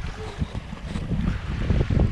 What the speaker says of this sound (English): And the wind is gusty, so the self-steering is wandering quite a bit here.